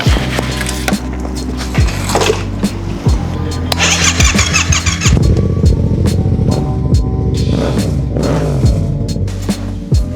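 Rebuilt motorcycle engine firing up, then revving repeatedly in rising and falling bursts before settling into a rough idle, loud and close.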